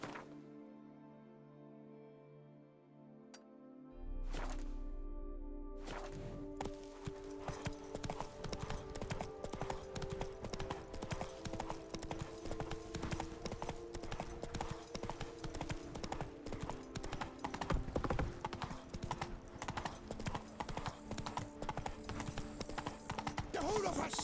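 Horse hooves gallop across the ground in The Witcher 3: Wild Hunt, a fast, steady rhythmic clip-clop that starts after a few seconds of quieter sound and continues loud and close for the rest of the stretch, with a brief whinny and some game background.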